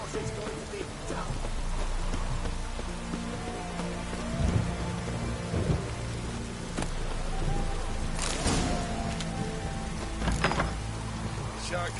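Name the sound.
rain in a video game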